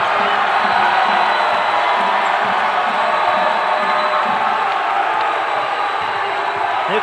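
Basketball arena crowd at a college men's game between JSU and Morehead, a dense sustained roar of cheering throughout, with a commentator talking over it.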